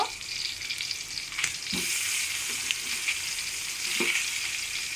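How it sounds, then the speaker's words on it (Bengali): Hilsa fish and eggplant frying in oil in a pan, a close, steady hiss of sizzling with a few soft knocks from turning and stirring. "মাছটাকে হালকা করে ভেজে নিব।"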